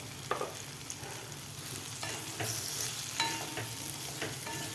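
Eggplant bhaji in a pan being mixed with coarsely crushed peanuts, soft continuous sizzling under intermittent scraping stir strokes, close but fairly quiet.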